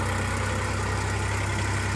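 A modified Massey tractor's engine idles at close range, a loud, steady low rumble with an even mechanical pulse throughout and no speech over it.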